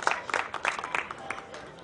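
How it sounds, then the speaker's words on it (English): Audience applause at a school annual day function, a brief burst of scattered hand clapping from a crowd, moderately faint and uneven, fading toward the end with no talk over it. "Give them a big round of applause, please."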